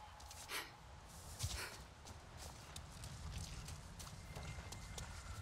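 Horse walking in the video game Avatar Frontiers of Pandora: faint hoof clip-clops with a soft snort and breathy sounds over a low, steady ambient bed, with no one talking.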